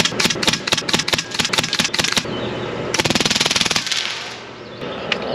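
Full-auto .30 caliber machine gun firing outdoors, loud rapid bursts of evenly spaced shots, a pause, then another sustained rattling burst that trails into echo.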